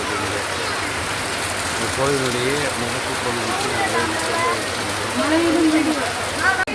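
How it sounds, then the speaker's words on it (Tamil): Heavy rain pours steadily at the Kollur Mookambika temple in Karnataka, a dense continuous hiss under someone speaking close by. "சரியான மழை பெய்து"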